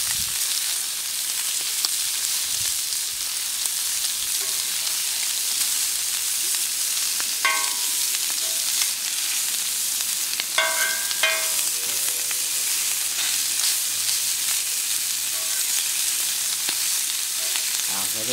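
Salmon and prawn skewers sizzling on a hot plancha, a steady loud hiss of frying that runs throughout, with a few brief scrapes and clicks partway through.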